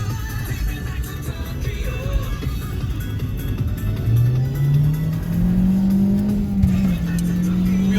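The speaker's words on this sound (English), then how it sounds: "Wheel spin all the way." A worn Toyota Corolla spins its wheels while accelerating hard, the engine droning low and then climbing in a rising rev over rumbling road and cabin noise, loud and close from inside the car.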